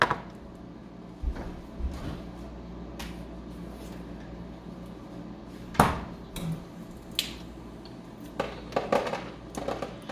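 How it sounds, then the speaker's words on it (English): An ice machine hums low and steady while ice clatters and knocks in irregular bursts, fairly close and moderately quiet. "Excuse my ice machine."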